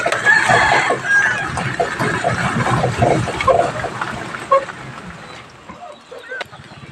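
Chickens cluck and a rooster crows amid a busy, noisy outdoor scene at a Thai temple in the rain, with steady background wash; a voice talks briefly underneath.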